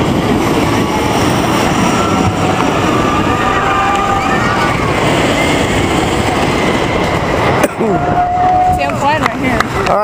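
WindSeeker swing tower ride at Kings Island amusement park descending to land, a loud continuous mechanical whir and rushing wind with shifting whining tones, easing off near the end.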